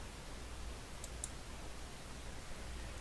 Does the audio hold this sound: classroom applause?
no